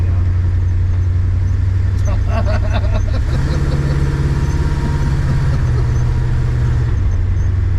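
An Oldsmobile's engine hums low and steady from inside the car while driving in the rain, a constant drone that shifts pitch as it pulls, with people talking over it briefly.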